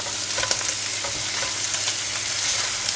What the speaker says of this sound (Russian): Теперь мы перемешиваем.